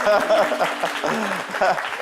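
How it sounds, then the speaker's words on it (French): Studio audience applause on a French television talk show, a steady wash of clapping that runs throughout and blends with voices and background sound. "Allez, merci, on peut l'applaudir."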